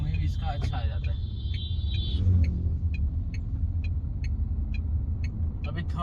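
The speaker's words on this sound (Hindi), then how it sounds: "इसका यही पावरफुल इंजन है।" A Tata Curvv with a 170 Nm torque engine cruises in third gear, its deep, steady engine and road rumble filling the cabin while someone talks over it.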